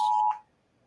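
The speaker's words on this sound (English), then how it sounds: "There's an Amber Alert. Everybody's phone is going off." A phone emergency alert tone for an Amber Alert sounds as a loud, steady electronic beep, held for about a third of a second before cutting off sharply into quiet room tone.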